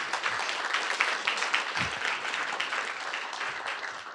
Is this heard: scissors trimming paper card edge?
no